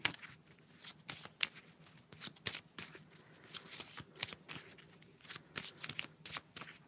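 Cards being shuffled repeatedly up close, crisp riffling bursts in an irregular rhythm, with short pauses between shuffles.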